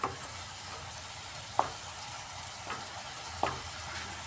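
Spice paste with grated ginger sizzles softly in a pan, a faint continuous frying hiss broken by a few sharp spoon scrapes as it is stirred.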